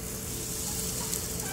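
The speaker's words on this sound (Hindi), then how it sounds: "छोले में तड़का लगाना है, तड़के के लिए हमने घी डाल दिया 1 चम्मच" Loud, steady crackling sizzle of asafoetida frying in a spoonful of hot ghee for chole tempering, close up and continuous.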